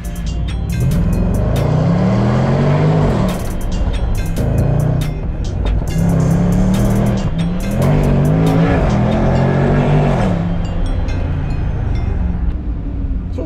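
A Range Rover SVR accelerates hard and drives fast, its engine roaring loud and close, rising and falling with gear changes, with tires squealing now and then.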